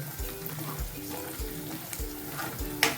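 Garam masala and Malvani chili powder sizzle in hot oil in a pan while being stirred with a spoon, a steady close crackling fry with soft rhythmic scraping strokes.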